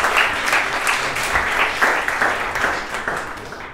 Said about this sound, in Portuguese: Palmas para a Guna, palmas